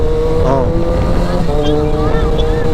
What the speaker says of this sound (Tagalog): sinusundan nga lang natin yung mga motor na yan